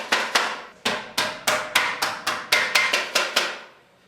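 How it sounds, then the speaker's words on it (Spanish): A coppersmith hammers a copper sheet cauldron, folding its rim flap over a reinforcing iron: about twelve sharp, ringing metallic blows in a fairly even rhythm, close and loud, with each strike decaying briefly and no talking. "A golpe de martillo, el calderero va encerrando el hierro de refuerzo con la solapa que ha dejado en la boca de la pieza."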